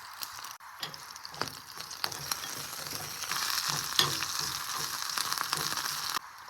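Curry leaves and green chilies frying in hot oil until browned, a close crackling sizzle with scattered pops and stirring scrapes, steady throughout.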